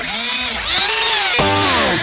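Power drill sound effect from the quiz game You Don't Know Jack: a loud, continuous whirring whine that rises and falls in pitch, with a sharp revving surge midway, heard alone.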